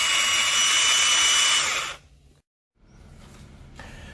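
Battery-powered i-scrub 21B small commercial floor scrubber with counter-rotating brushes spinning at 400 RPM, a loud close motor whine that winds down and stops, then a quieter hum resumes.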